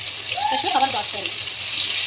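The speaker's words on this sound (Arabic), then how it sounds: "تشويحه برضه على السريع" Vegetables sauté quickly in a little oil in a hot pan, a bright, steady sizzle close by while someone speaks over it.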